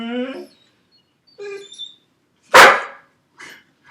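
A puppy gives a few short yips and one sharp, loud bark, spaced apart with quiet gaps between them, in an indoor setting.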